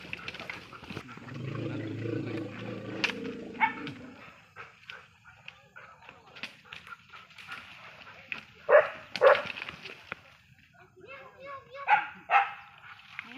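A white dog barks at an elephant near a village, with a deep low rumble early on and then several loud, sharp barks at intervals while people talk throughout.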